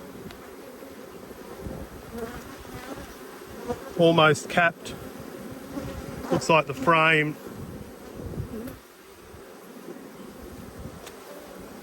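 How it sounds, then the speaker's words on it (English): Close insect buzzing as agitated bees fly around an opened hive while a frame is pulled out, with a couple of louder buzzing passes near the microphone while someone talks quietly. "few agitated bees flying."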